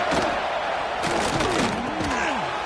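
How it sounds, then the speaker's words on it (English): Video game football stadium crowd roaring during a red zone third down play, a dense, loud, continuous cheer with a commentator's voice over it. "this crowd is at fever pitch"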